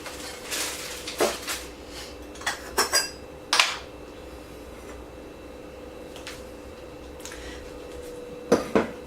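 A spoon presses ground coffee down into a coffee maker for Cuban coffee, giving a handful of light metallic clinks and taps, close and fairly faint, against a quiet room hum.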